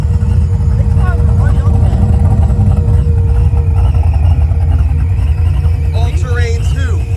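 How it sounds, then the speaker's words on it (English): Boosted small-block Chevy engine in an S10 truck, a loud, continuous heavy rumble close by with a held rev, while people talk over it. "I gave it gas to make it sound cool."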